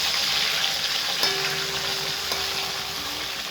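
Masala spices hit hot oil with curry leaves already in the pan, giving a loud, steady close-up sizzle and crackle with faint stirring clinks.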